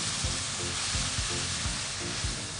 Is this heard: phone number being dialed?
no